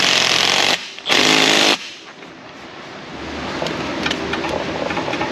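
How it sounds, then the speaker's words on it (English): Impact wrench tightening a tie rod nut on a Ford Mustang GT front end, two loud rapid hammering bursts in quick succession, close to the microphone, followed by quieter workshop background. "impacts coming in last time on the tie rod."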